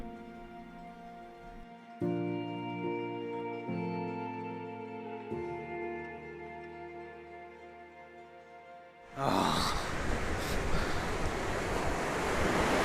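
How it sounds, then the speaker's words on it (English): Ocean waves on Uruguay's Atlantic coast break and wash loudly in a broad, steady roar after a quieter opening dominated by a low tonal hum. "Here we are, the Atlantic Ocean."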